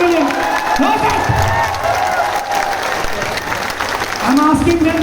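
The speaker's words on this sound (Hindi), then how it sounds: "ताली बजाओ एक बार माँ के लिए, जोर से।" An audience at the Sheru Classic 2022 event applauds loudly for their mothers: dense, sustained clapping and crowd noise with a faint tonal hum underneath.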